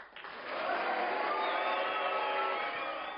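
Audience applause for Father Avalon, a priest who cared for a death row inmate, rising to a steady, dense wash of clapping with faint crowd murmur throughout.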